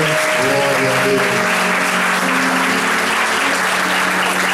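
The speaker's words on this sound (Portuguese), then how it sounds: "Você pode aplaudir ao Senhor" A church congregation claps at a council plenary session honoring a church. Dense, continuous applause stays steady and loud throughout, with a faint tonal voice or sustained sound beneath early on.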